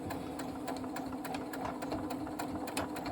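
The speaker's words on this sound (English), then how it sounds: "A bit of back stitch at the beginning, down to the first seam, And this is straight line stitching." A sewing machine stitches quilt binding in a steady, rapid mechanical chatter, its needle ticking at an even rhythm over a constant motor hum, close and alone.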